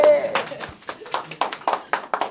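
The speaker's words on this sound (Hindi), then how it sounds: "तालियां" At a cinematography workshop, a short burst of scattered clapping from a small group, uneven and moderately loud, with a voice speaking at the start.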